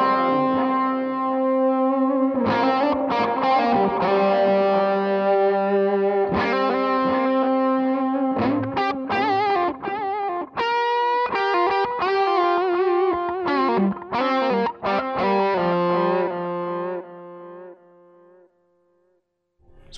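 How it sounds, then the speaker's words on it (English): Overdriven electric guitar with echo delay through a Marshall Theatre Haze 40 combo amp, playing sustained distorted notes and then choppy rhythmic chords with trailing repeats, loud and alone, ending abruptly. "I actually want to put some of that nice that echo on there, so for a nice bit of delay for solos and stuff"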